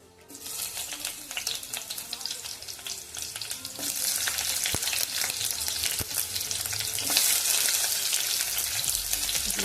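Chopped onion dropped into well-heated oil in a kadhai for palak paneer, giving a bright, crackling sizzle that grows louder and denser partway through and keeps hissing steadily, with no voices.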